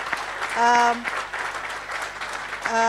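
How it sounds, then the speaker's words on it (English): A demo day audience claps in a short round for a former program director, the applause rising and falling briefly under a voice that speaks over it. "Let's give him one round of applause."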